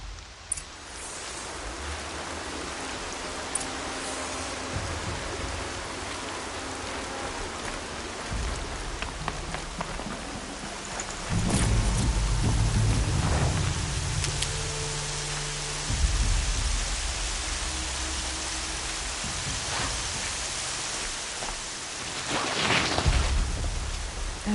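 Steady rain pours down in the video game Horizon Zero Dawn, a dense continuous hiss with a few deeper rumbles and thumps partway through, no voices.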